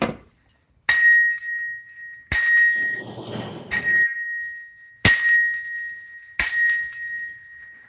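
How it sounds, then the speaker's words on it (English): A small handbell is rung five times on a video call, each ring a bright clear strike that sustains and fades before the next, spaced about a second or so apart. "that's worth 5 rings of Fernando's bell"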